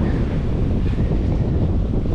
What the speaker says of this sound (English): dealing with weather helm and waves and puffy wind